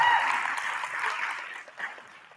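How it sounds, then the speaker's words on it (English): A burst of audience applause, fairly close, fading steadily over a couple of seconds. "I would like to give one more round of applause for our speakers"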